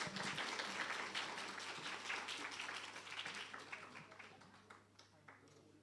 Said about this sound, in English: Round of applause for our guest speaker.